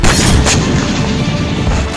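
A drone-dropped bomb bursts on a Ukrainian Challenger tank in Kursk, a loud, close, heavy boom with a sharp crack near the start, followed by a dense rumbling roar that carries on to the end with no voices.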